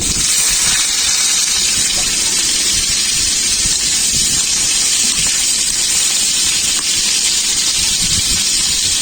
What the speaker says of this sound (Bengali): উচ্ছেগুলো ভেজে নেব।